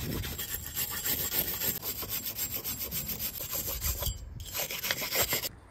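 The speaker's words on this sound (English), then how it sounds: "get a wire brush and some brake clean and scrub it all down" A wire brush scrubs a brake hub clean on a Vauxhall Antara's rear brakes during a pad job, giving close, steady rasping strokes in a continuous rhythm with no talking.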